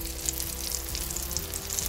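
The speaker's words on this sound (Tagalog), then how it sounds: "Tapos piniprito ko siya ng kunting mantika lang." Eggplant slices sizzle steadily in a little cooking oil in a pan, a continuous close crackle with small pops, for a Filipino eggplant omelette.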